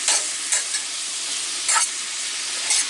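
Beans frying in bacon grease and oil in a pan, a loud continuous bright sizzle with several short scraping stirs breaking through at intervals, close and with no talk.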